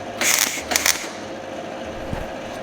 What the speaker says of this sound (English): Wherever it's sitting nice and flush, just give it a tack.